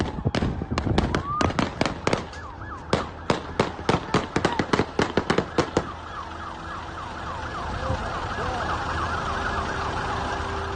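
Rapid cracks of gunfire traded between a suspect and police ring out in a loud, irregular burst, then stop, leaving a steady wail of sirens carrying on alone.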